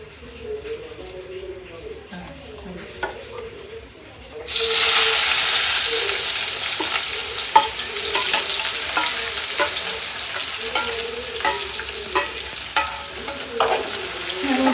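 After a quiet start with faint talk, coconut oil poured into a hot pan bursts into loud, steady sizzling with crackling pops that continue to the end.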